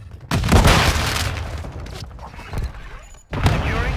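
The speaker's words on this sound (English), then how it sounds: "Friendly cruise missile inbound" A loud, heavy boom of a cruise missile strike in Call of Duty: Modern Warfare 2 Domination, rumbling and crackling with scattered debris and gunfire, then a second sharp blast near the end.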